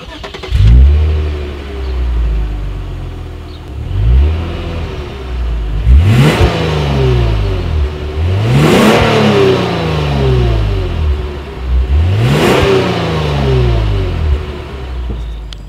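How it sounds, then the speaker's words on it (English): A 2018 Lexus RC 300 F Sport's dual exhaust with chrome tips revs hard several times in succession, each rise followed by a throaty exhaust fall, loud and close with no talking. "here is that exhaust clip"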